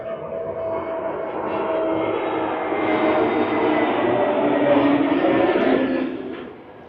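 An airplane passes overhead near an airport beside a busy shopping and restaurant area, its engine roar building steadily to a loud peak and then fading away, with no talk over it.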